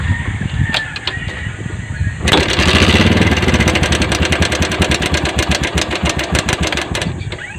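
A Bajaj CT 100 motorcycle engine cranks and catches, then runs with a loud, rapid, steady putter close by; the running sounds noisy.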